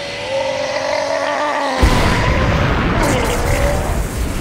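An anime fire spell blast goes off with a sudden loud boom, then a roaring, crackling rush of flame that carries on for a few seconds under a rising tone.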